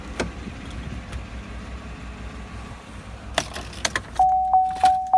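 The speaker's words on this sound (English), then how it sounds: "I'm going to shut the truck off" A 2015 Chevrolet Silverado 1500 LT Double Cab pickup idles with a low rumble and is switched off, followed by a few sharp jangles of keys and a repeating electronic door chime that beeps evenly near the end.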